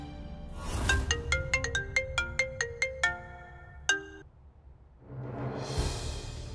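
A phone plays a melodic ringtone of about a dozen quick electronic notes, stops after a pause, and background noise rises afterward.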